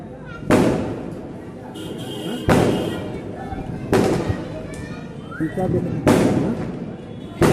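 Four loud firecracker bangs go off a second or two apart during Diwali, each sharp crack followed by a rumbling echo, with a voice talking underneath.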